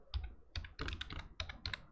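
Keys clack on a computer keyboard while typing a math function name into a Python session, about half a dozen close, crisp strokes in short bursts, with no voice.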